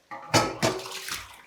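Water running over a cooking pot being rinsed at a kitchen sink, a close splashing rush in two short bursts that trails off into a steady trickle.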